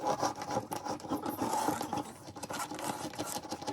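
A scrap of wood scraping old silicone off a Roadtrek camper van's baggage door area, giving quick, uneven rubbing and rasping strokes at close range with no talk.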